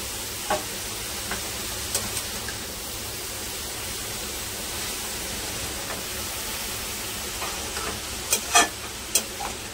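Grated carrots for carrot halwa are stirred in a hot pan under a steady soft sizzle and hiss, with occasional light scrapes and taps of the spoon.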